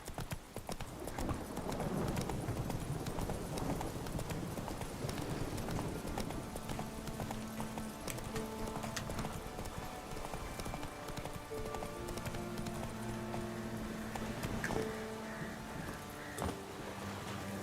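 Geralt's horse Roach trots steadily in Witcher 3, with rhythmic clip-clop hoofbeats throughout under game music, along with the odd faint snort.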